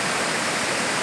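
Water from a hill stream rushes and splashes continuously, a dense close roar with no voices.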